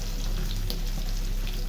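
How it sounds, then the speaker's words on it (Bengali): Eggplant slices fry in a pan with a steady, dense, loud sizzle that continues unbroken throughout, with no voices over it. "বেগুনটা একটু উল্টাই দিই, দেখি ভাজা হয়েছে কিনা"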